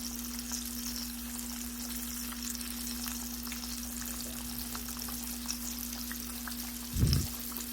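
Flour-dredged pork chops fry in a pan, a soft, steady crackling sizzle heard close, with a low hum in the background and a brief clunk near the end.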